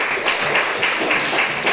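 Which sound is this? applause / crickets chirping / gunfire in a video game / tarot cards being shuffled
applause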